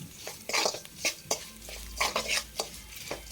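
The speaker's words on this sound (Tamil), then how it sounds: "இதையும் போட்டு எண்ணெயிலே வதக்கிட்டு இந்த அவளையும் போட்டு நல்லா வறுத்து எடுத்துருங்க" Flattened rice (aval) roasting and being stirred in oil with chilli powder in a pan, with repeated scraping, rustling strokes in an uneven rhythm, close and moderately loud, and no voices.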